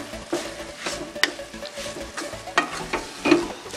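Squid roast masala being stirred in a pan, a spoon scraping and turning the thick mixture in irregular strokes over a soft, steady sizzle, close and moderately quiet.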